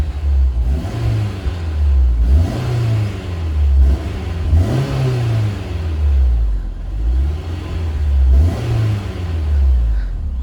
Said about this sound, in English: let's listen to this exhaust really quick